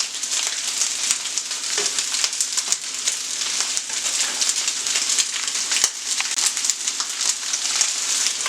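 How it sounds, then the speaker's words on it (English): Thai basil taco filling frying hard in a hot pan, a loud dense crackling sizzle that runs without a break, with a few faint stirring knocks and no talk. "you want to let it cook for a couple minutes. Every minute or two, you're going to flip it over, make sure it keeps browning."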